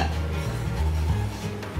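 Besan dry roasted over a medium flame in a kadhai, with a spoon scraping and clinking against the metal pan in close, steady stirring strokes.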